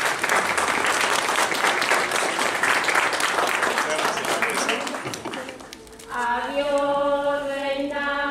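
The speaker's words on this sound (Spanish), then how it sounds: "Fuerte aplauso para Giselle." Guests at a quinceañera for Giselle in Fresnillo, Zacatecas clapping loudly and continuously for several seconds, with voices in the crowd. The applause dips, then gives way to sustained brass-band tones.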